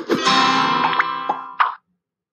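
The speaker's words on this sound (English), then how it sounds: "Every time I click, it flaps and makes that wing sound." Flappy Bird style wing-flap sound effect from a coded video game, a short bright whooshing tone with several quick flap accents, then a final flap and silence.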